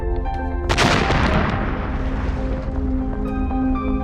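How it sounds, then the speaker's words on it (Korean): A cannon fires a shell with one heavy boom, its broad rumbling blast rising sharply and then trailing off into a long roaring decay, loud and close with a faint background tone throughout. "대포에서 포탄을 발사하면 적당한 거리를 날다가 지구로 떨어집니다"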